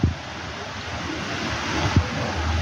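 Rain falls outdoors in Nagpur with cold, gusty wind, making a constant broad rushing hiss. Two brief low thumps of wind buffeting the microphone sound near the start and around the middle.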